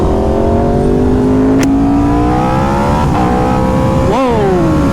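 An Aprilia RSV4 running Gabro Upmap T800 full engine mapping accelerates hard and loud, its engine note climbing steadily through the gears with a brief shift near the end, close and continuous.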